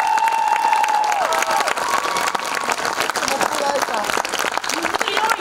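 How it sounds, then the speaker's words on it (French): A crowd at a high school talent show applauds with loud, dense clapping and some cheering, while a voice speaks over it and a sustained tone rings out early on. "J'aimerais qu'on leur donne une bonne main d'applaudissements."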